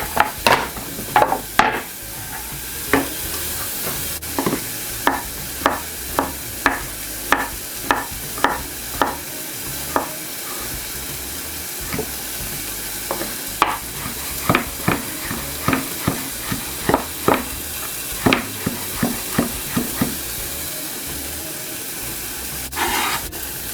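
Garlic frying in a pan: a steady sizzle runs throughout, broken by frequent sharp clicks and taps of a utensil against the pan, with no voices.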